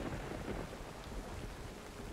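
Rain falls at night in a forest clearing beside a smouldering campfire in The Medium, a dense, even hiss of downpour with a low thundery rumble underneath, continuous and fairly faint.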